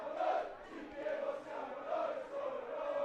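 Northside supporters chanting at an Eccellenza football match between Clivense S.M. and Calcio Schio, a sustained crowd chant rising and falling in steady rhythmic swells, carried from the stands without any nearby voice over it.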